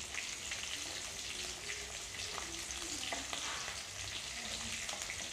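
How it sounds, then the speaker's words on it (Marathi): Green chillies fry in hot oil with cumin, giving a steady, close, bright sizzle with faint crackles throughout and no talking. "मिरच्या छान तेलामध्ये परतून घेऊ"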